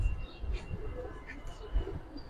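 Gribaz pigeons in a market collection give soft, low cooing in faint, irregular murmurs. Muffled voices carry in the background.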